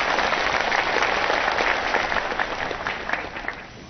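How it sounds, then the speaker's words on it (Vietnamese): Audience applause greeting dancers as they take the stage at a Christmas celebration, a dense steady wash of clapping that stays loud throughout and tapers slightly toward the end. "Xin mọi người cho một tràng pháo tay thật lớn để chào đón họ ra sân khấu."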